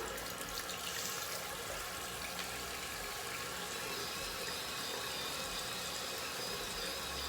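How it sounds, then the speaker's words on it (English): A spinning skincare cleansing brush is rinsed under a running tap, giving a steady, close, broadband rush of water that stays even throughout, with no talking. "What I'm doing is just spinning it under the water to get all the makeup and the soap that I had on there"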